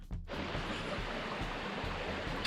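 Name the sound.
flowing creek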